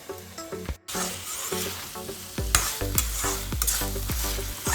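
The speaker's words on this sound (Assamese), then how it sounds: "আৰু মই অকণমান সময় ঢাকি পেলাই ভাজি থাকিম" Gooseweed greens fry in a pan over medium heat, a dense constant sizzle broken by regular rhythmic spatula scrapes, close and fairly loud, with no talking.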